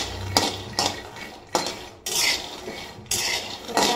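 Peanuts roast in a pan while a spatula stirs them, giving several sharp scraping and rattling bursts against the metal in an uneven rhythm, close by with no talking.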